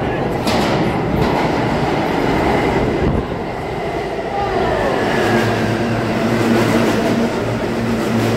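A New York City subway train rumbles past close by with steady rail noise and clatter, a low hum settling in near the end.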